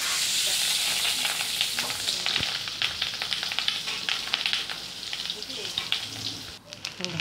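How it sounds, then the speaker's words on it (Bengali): Fish roe frying in hot oil in a wok, a loud, dense sizzle with crackling pops that starts strong and settles slightly, heard up close. "কড়াই গরম হয়ে গেছে, তেল, এখানে মাছের ডিমটা দিয়ে দিলাম।"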